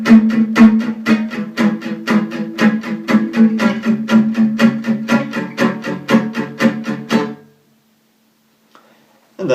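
Acoustic guitar strumming a chord progression in jazz manouche style, with crisp, rhythmic swung chord strokes in a steady pulse for about seven seconds before stopping, followed by near silence and a brief final strum.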